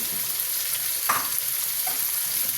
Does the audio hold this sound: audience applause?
no